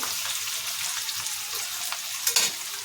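Potatoes and fenugreek leaves frying in a pan for moong dal cheela, a loud continuous close sizzle with light stirring scrapes and a brief stronger burst near the end.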